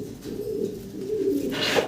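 Lahori pigeons cooing close by, a steady low throaty murmur running under a rustling background for a couple of seconds.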